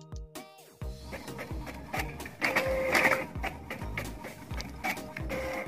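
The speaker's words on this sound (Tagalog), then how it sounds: "Iprint na natin." A printer runs a double-sided PDF booklet job, with whirring feed motors, rhythmic mechanical clicks and a rising hum as paper passes through, steady and close with no voices.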